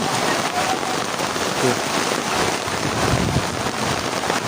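Steady rain falls during a storm in Tajikistan, a dense, continuous hiss of drops on surfaces throughout, with faint low rumbles and brief muffled sounds underneath.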